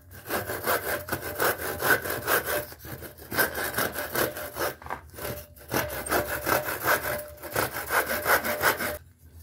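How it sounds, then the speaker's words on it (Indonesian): A German Carl Schlieper 1137 18-inch steel hand saw cuts through wood in steady back-and-forth strokes, each a close, loud rasping pass, with a few brief pauses between runs of strokes. "pas awal-awal kita menggergaji itu agak loncat-loncat seperti itu ya"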